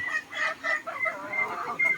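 Domestic chickens and a wild junglefowl (labuyo) clucking in a backyard flock, a series of short repeated calls at moderate distance with brief pauses between them, no voices.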